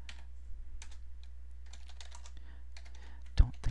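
Keys clatter in quick irregular bursts as Cisco router commands are typed on a computer keyboard, close and clear with short pauses and a sharper final keystroke, no talking.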